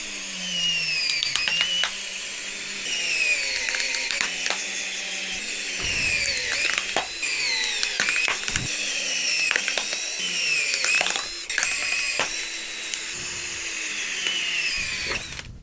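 A power drill whirs steadily with high-pitched motor whine, speeding and slowing in short bursts with brief pauses, close and loud throughout.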